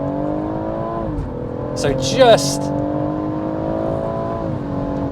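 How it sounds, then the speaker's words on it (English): BMW M140i six-cylinder engine rising in revs on kick down, a steady harmonic drone that climbs and holds, with a short voice and brief noise burst in the middle. "the roar of that 6-cylinder engine sounds glorious"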